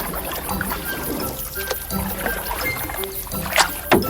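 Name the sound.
rowboat moving on water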